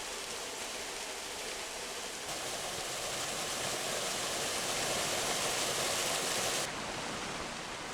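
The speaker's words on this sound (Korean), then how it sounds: "길 옆 계곡 한켠에는 자그마한 폭포가 탑들의 호의 속에 숨어 있다" A small waterfall tumbles into a mountain valley stream beside a path in Deogyusan National Park, Muju, making a steady, dense rushing roar that swells slightly midway. No voices are heard.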